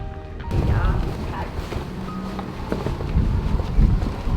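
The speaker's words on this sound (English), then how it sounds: "I like the wind." Steady wind buffets the microphone outdoors at a wedding, a constant low rumble and roar that persists throughout the clip.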